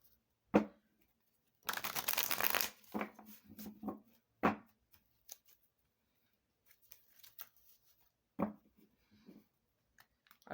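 Cards are shuffled and handled for a reading, giving a burst of riffling flutter followed by scattered soft slaps and taps, faint and close with quiet gaps between.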